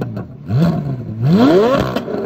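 A 2023 Corvette Z06 prototype engine revs up to 4200 RPM, climbing in two rising pitch sweeps, close and fairly loud, with no talking.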